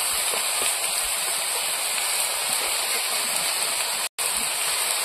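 Fried prawns go into a pan of bottle gourd, bringing on a steady broadband hiss of sizzling that stays loud and even, with one brief dropout near the end. No talk.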